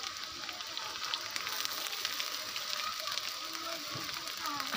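Ginger paste sizzles as it hits hot oil in a pan while cooking for guests, a steady crackling hiss that continues throughout, close and fairly quiet.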